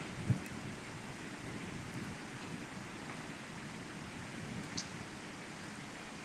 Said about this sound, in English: it looks like the rain's slowing down a little bit